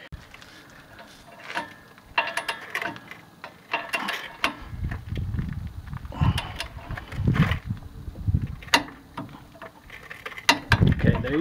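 Ratchet wrench clicking in short bursts while tightening a 21 mm tie rod end nut on a Dodge RAM to 45 foot-pounds, with close metallic rattles and handling knocks throughout.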